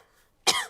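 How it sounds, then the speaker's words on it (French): A cartoon child, a young pig, gives a single short cough after a quiet pause, close and clear. "Maman, papa, j'ai attrapé une toux."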